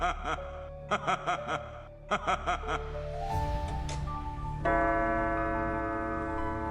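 A clock ticks steadily in a Bengali horror cartoon set at a deserted railway station at night, the regular clear ticks giving way to a swelling, ominous musical drone.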